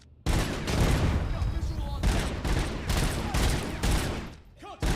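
Rapid bursts of gunfire from the shooter RoboCop: Rogue City fill nearly the whole stretch, loud and dense with volleys and short gaps, ending in a brief lull before firing resumes.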